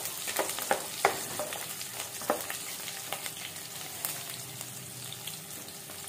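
Frying in sesame oil in a pan while making karunai kizhangu (elephant yam) kuzhambu, a quiet continuous crackling sizzle with small popping spatters, no talking.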